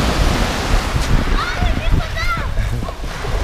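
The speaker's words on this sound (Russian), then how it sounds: "Не сильные волны." Ocean waves wash steadily onto a beach in Alushta, Crimea, a continuous loud surf and splash that fills the whole stretch, with faint background voices.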